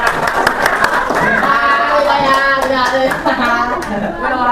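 Classroom applause for students, a steady wash of clapping hands with children's voices and a teacher talking over it, loud and close throughout.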